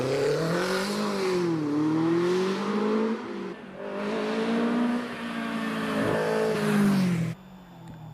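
Caterham race car at the Prescott hillclimb, its engine revving loudly and close with rising and falling pitch through gear changes for about seven seconds, then cutting away abruptly.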